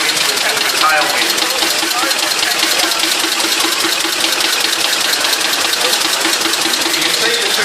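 A motor runs with two crossed driving belts on its right side, producing a loud, continuous, even mechanical whir and rattle with no breaks.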